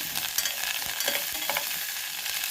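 Split moong avalakki is stir-fried in a pan, with a continuous soft sizzle and scraping stirs sounding close and alone, with no voices.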